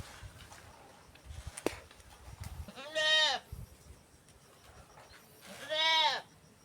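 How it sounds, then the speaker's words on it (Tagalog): Goats on a farm give two clear, nearby bleats a few seconds apart over soft outdoor background noise. "May mga kambing, kaya inilipat natin yung kambing."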